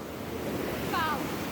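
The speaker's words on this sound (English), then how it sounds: "we've wandered down to the waterfalls" Rushing water from the waterfalls and river at Coed Cynfal nature reserve in Wales, a continuous roar with wind buffeting the microphone and a brief high bird-like chirp partway through.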